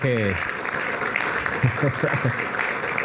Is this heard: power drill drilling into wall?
no